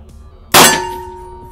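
A revolver bullet strikes one of four big steel target plates at a shooting range, a single loud metallic clang with a ringing tone that fades over about a second.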